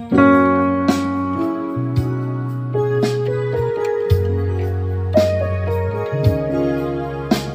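Yamaha PSR-S775 electronic keyboard arranger playing sustained chords over a soft worship-style beat, with bass notes shifting and light percussive hits, no talking.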